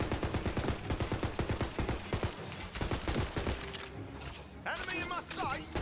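Full-auto gunfire in the game Tiny Tina's Wonderlands rattles in a rapid, steady stream of loud shots with shattering crashes, ending in a chaotic flurry; a voice talks over the shooting.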